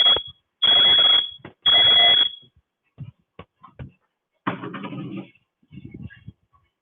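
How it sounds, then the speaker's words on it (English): A kitchen smoke alarm goes off in loud, piercing high-pitched bursts, three shrill beeps near the start, followed by scattered clatter and brief murmurs. "that's my smoke alarm."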